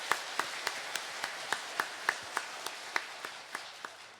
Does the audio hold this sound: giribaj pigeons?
no